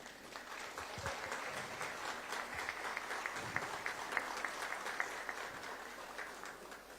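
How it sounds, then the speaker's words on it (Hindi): Steady applause from an audience at a clean energy event in Ranchi, Jharkhand, dense, even clapping from many hands lasting throughout, moderately loud with no speech over it. "जोरदार तालियां चाहेंगे"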